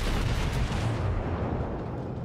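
Battleship guns booming in World of Warships, a Kongo-class ship trading fire with enemy Mexico battleships; a dense, continuous roar of loud low-end cannon rumble with overlapping blasts throughout.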